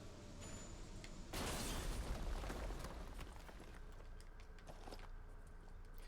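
A grenade launcher blast in the Resident Evil Village game, a broadband boom at about one second that decays into a rumbling, crackling tail over a low background hum.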